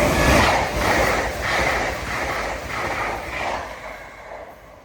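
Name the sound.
LNER Azuma train passing through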